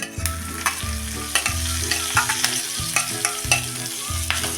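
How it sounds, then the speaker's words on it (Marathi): Mustard seeds, asafoetida and green chili crackle in hot oil for a tempering poured over a cucumber salad, a loud, dense sizzle with repeated popping bursts and stirring clatter, no voices. "त्यात टाकूया ही अर्धा चमचा मोहरी छोटा अर्धा चमचा हिंग आणि ही हिरवी मिरची"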